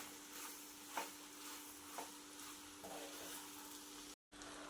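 Egg semiya and egg bhurji are stirred together in a hot pan, a soft continuous sizzle with a couple of scraping spatula taps, faint and close, ending in a brief dropout.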